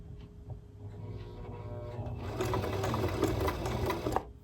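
A sewing machine running a straight stitch, its motor whirring and needle chattering steadily close by, speeding up in the second half before stopping.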